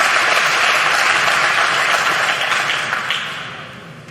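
Crowd at a pool semifinal applauds a spectacular jump bank shot, steady loud clapping close by that gradually fades toward the end.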